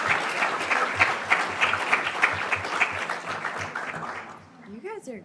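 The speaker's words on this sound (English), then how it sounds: "Big round of applause for our speakers." Lively audience applause and clapping for a panel of speakers at a business event, loud and continuous with a few whoops and chuckles, fading near the end as a voice begins.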